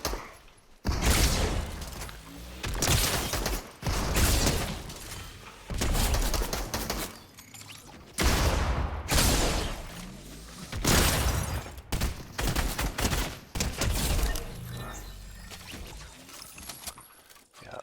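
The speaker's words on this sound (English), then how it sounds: "not a big fan of this burst rifle" Burst rifle fire in the Fortnite video game, repeated rapid volleys of sharp shots in loud clusters separated by brief pauses, with clicks and rattles between bursts, no voice.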